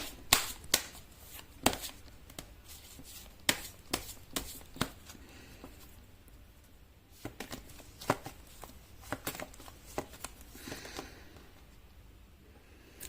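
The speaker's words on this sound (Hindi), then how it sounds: "तो पहले मैं आपके लिए कार्ड निकालूंगी।" Tarot cards are shuffled and drawn during a tarot reading, with a close run of crisp riffling snaps and slaps. The bursts come in uneven clusters and there is no talking.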